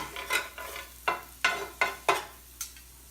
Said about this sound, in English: she's just going to wait for the garlic to turn brown